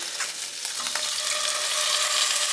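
Shrimp tossed into a hot pan with minced garlic, sizzling and crackling steadily and fairly close, with a few stirring scrapes as the hiss grows slightly louder and stays alone without any talk.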